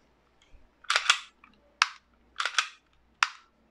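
Bursts of rapid sharp snapping shots from a WE Glock 18c Gen4 airsoft gas blowback pistol firing on full auto, four short bursts spaced about a second apart, loud and close with no talking.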